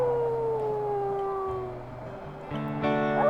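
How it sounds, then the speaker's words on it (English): A wolf howls in the video game WolfQuest, a long sliding tonal wail that falls slowly, then rises into a second higher howl near the end, loud and close against a steady background. "I'm gonna howl, make sure we mark this"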